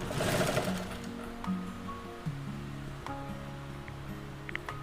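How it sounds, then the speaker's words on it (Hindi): Sewing machine stitching the lining of a double zipper pouch, a steady low mechanical whirr with a few short pauses and speed changes, close and moderately quiet. "और फिर इसे अपनी लाइनिंग को पीछे कर लेंगे और फिर इस पे सिलाई कर लेंगे।"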